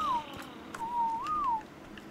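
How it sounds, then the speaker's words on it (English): Whistle command in ARK Survival Ascended (Scorched Earth), a clear tonal whistle heard as a short falling note and then a longer held tone that rises and falls, fairly close over faint game ambience. "I guess I should whistle these guys neutral."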